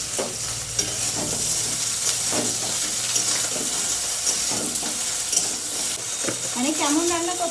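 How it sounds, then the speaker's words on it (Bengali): Food fries lightly in hot oil with a steady, dense sizzle, punctuated by scraping stirs of a spoon in the pan; a voice briefly speaks near the end. "তেলটা গরম হয়ে গেছে হালকাই ভেজে আমি তুলে রাখবো জাস্ট একটু নাড়াচাড়া করে"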